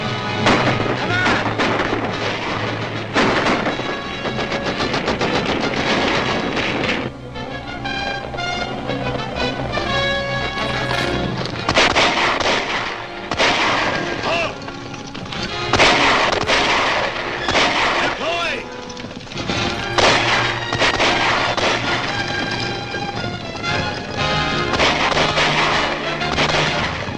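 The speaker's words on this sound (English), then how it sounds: "Gunfire." A 1941 film serial war scene is packed with dense, continuous gunfire and booming artillery, sharp shots and heavy blasts piling up close and loud, mixed with shouted voices and a music score.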